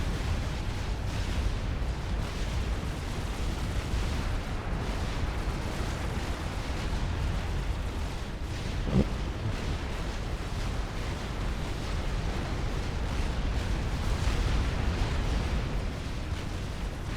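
Gunship fire and explosions in a strategy video game: a dense, continuous rumble of distant blasts and firing, with one sharper burst partway through and no talk.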